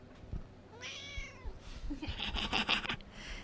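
A cat gives a short meow, followed by a louder, drawn-out meowing call close by, with faint rustling in a quiet room.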